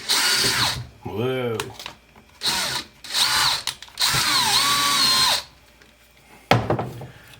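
A power drill whines through a plastic cap in several bursts of varying length, with a brief voice exclaiming between runs.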